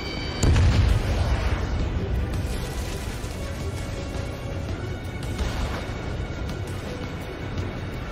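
A missile explosion in Ace Combat 7 opens with a sharp, loud boom, then settles into a rumbling roar of jet and battle noise that swells again faintly later.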